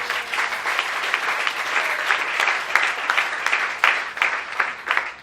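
A church congregation claps together at a sermon, steady dense applause that carries on evenly without letting up.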